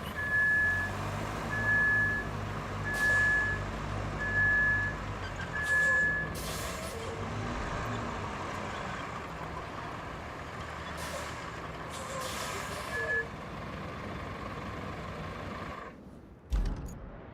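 A heavy dump truck reverses in a disaster-recovery building game, its engine rumbling steadily while a reversing alarm beeps in a regular series for about six seconds, then again once later, with sharp air-brake hisses cutting in between.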